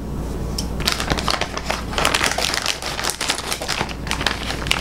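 Scissors snip and crinkle through plant delivery packaging holding carnivorous plants, a Venus flytrap, pitcher plant and sundew, giving a close, steady run of crackly rustling and cutting with no talk.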